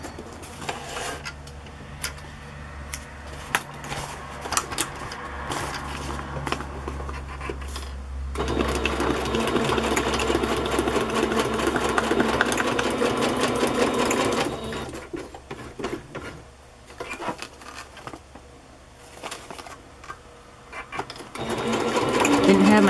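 A sewing machine stitches through a decorated boho journal in bursts of rapid, steady mechanical whirring, with a long sustained run in the middle, short pauses and clicks between passes.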